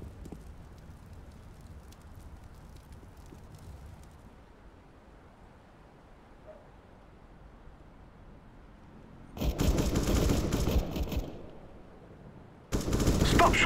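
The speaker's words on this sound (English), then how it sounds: "Stop shooting me!" Automatic gunfire in the video game CS:GO comes as two loud, sustained rattling bursts after a quieter stretch of low in-game background noise.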